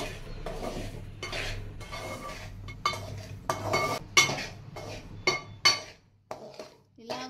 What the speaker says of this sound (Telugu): దీన్ని మనం బాగా రెడ్ కలర్ వచ్చే వరకు బాగా వేసుకోవాలి